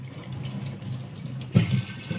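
Running tap water splashes steadily onto an old clay water pot being washed, a continuous close gush that swells and gets louder for a moment partway through.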